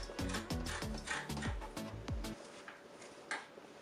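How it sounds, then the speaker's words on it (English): A domestic sewing machine stitching fabric for a V-band turban cap, running in a fast rhythmic mechanical chatter for about two seconds, then stopping and leaving faint room noise. "I will take this place to my sewing machine and sew it"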